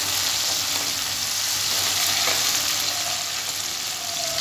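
Steady loud sizzle of frying in a nonstick kadhai over a high flame while making peanut chutney, a continuous broadband hiss with faint stirring scrapes and no talking.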